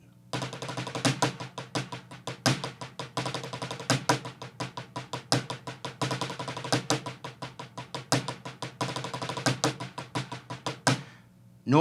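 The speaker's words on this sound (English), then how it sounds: "it's going to start with a 9-stroke roll into regular 16th notes." A snare drum plays a nine-stroke roll breaking into even, steady sixteenth-note hits with accents, close and clear for several seconds.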